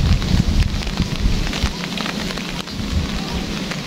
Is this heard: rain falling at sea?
yes